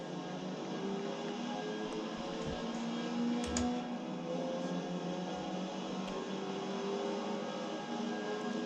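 Mazda Miata engine in Forza driven with a race wheel, a steady buzzing drone holding a fairly even pitch, with a few soft thumps and clicks underneath.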